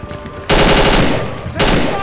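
Machine-gun fire in the World War II game Combat 1944 comes in two loud, close bursts: a long rattling stretch, a brief gap, then a second burst.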